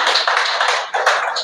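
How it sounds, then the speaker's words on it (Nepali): A church congregation at a Saturday service claps to welcome a pastor, producing dense, steady applause with no talking. "हामी ताली बजाएर स्वागत गर्छौँ"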